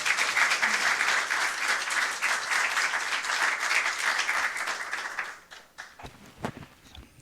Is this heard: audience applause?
yes